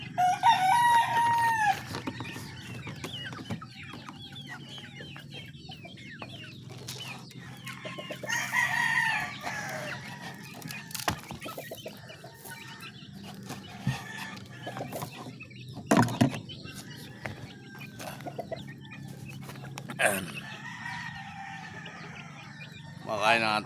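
Pet chicks and a hen clucking while eating, with soft peeps and clucks close by, a rooster crowing partway through, and people talking intermittently over the birds.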